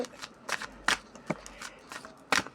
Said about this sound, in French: je commence à battre les cartes